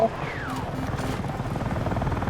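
A helicopter in the Battlefield 6 video game whirs with a steady pulsing rotor chop under in-game sounds, with a brief descending tone near the start.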